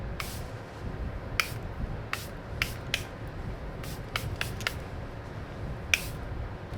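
Expensive perfume spray being spritzed, short crisp hissing bursts repeated irregularly about a dozen times, close by, over a steady low room rumble with no talk.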